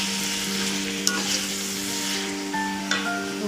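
Tomato spice paste for kapurung sizzles steadily in a hot pan while being stirred, with a couple of sharp utensil scrapes and clinks over the constant close frying hiss.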